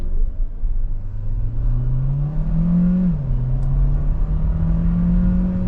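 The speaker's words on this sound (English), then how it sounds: "Let's go to sport mode and see what that's like from a slow speed, pedal to the floor." A 2026 Kia Sportage Hybrid pulls from a slow speed in sport mode with the pedal floored, its turbo engine droning steadily upward, briefly dipping as it shifts, then climbing again under constant cabin rumble.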